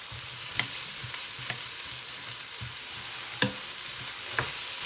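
Pork ribs and onions stir-fried in a hot pan give a steady loud sizzle, broken by a few sharp clicks of the utensil against the pan.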